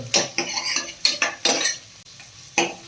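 Onions sizzle in about two spoons of hot oil with curry leaves as a spoon stirs and scrapes the pan in a run of distinct clinking, scraping strokes, close and fairly loud, with no talking.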